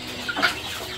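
Native Indonesian village chickens (ayam kampung) cluck in a farm setting, a short burst of a few close, mid-loud clucks over steady background noise.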